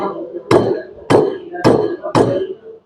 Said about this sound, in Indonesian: saya membuka flange penyambung menggunakan palu karet secara dipukul merata.